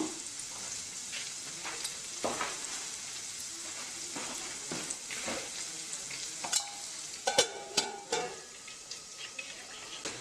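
Amla pieces cook in a pan on a low flame for pickle, a soft steady sizzle with intermittent stirring scrapes and a few sharper clatters near the end, no voices.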